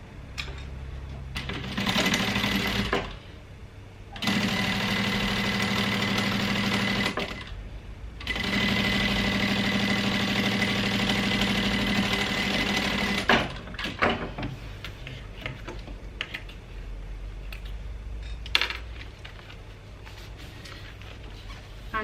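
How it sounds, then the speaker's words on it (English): A sewing machine top stitches along a bag seam in long steady runs of rapid mechanical chatter, stopping briefly twice, then giving way to quieter handling, clicks and fabric rustling near the end. "I'm just going to top stitch along this seam."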